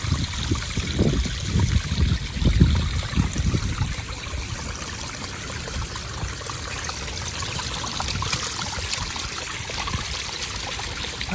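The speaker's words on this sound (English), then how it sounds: "You can hear the waterfall." A small garden waterfall splashes and trickles steadily over rockery stones beside a creeping Mugo pine, with a heavier, gurgling rush for the first few seconds and then a constant close babble.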